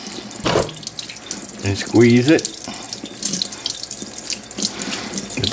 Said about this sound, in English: I'm gonna run cold water